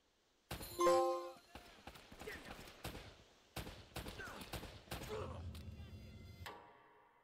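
Pistol fire from a PM 9mm in the Uncharted video game, a burst of sharp shots followed by scattered impacts and game effects, with a lower rumble near the end; no talk is heard.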